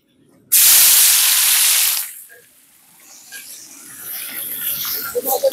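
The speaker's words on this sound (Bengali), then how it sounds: "পেঁয়াজটা ভাজা ভাজা হয়ে যাচ্ছে।" Onions hit hot oil with a sudden loud splashing sizzle that lasts over a second, then settles into a quieter, crackling fry that gradually builds again.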